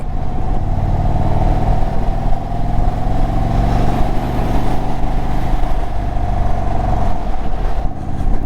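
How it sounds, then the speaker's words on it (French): The engine of an Indian Chief 1900cc motorcycle drones steadily while riding, a loud, close, continuous low rumble with a sustained hum and wind noise over it. "je suis au guidon d'une Indian Chief"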